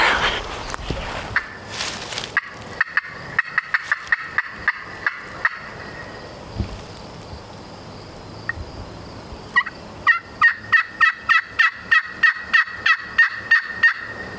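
A wild turkey gobbles in rapid rattling bursts, first among scattered clicks and thumps, then a clear repeated gobble sequence that carries from a moderate distance in an outdoor hunting setting.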